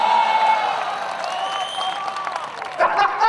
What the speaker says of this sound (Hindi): तालियां गलत जगह बजा दी आपने।